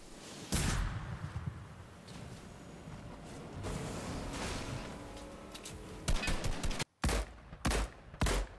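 Gunfire from a Fortnite match, including sniper fire, comes as a dense, continuous barrage of shots and blasts. A few sharper, louder cracks stand out near the end, with no talking.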